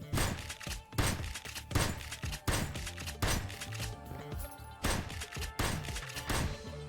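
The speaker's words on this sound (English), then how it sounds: "Shotgun." Shotgun blasts in a video game come in a regular series of loud, punchy shots, roughly one every second, each followed by a short decaying rumble.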